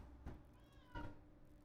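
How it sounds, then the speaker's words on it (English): A house cat meows twice from across a quiet room, faint, short and drawn-out, with a low steady hum underneath. "Oh, I think my cat's bitching again."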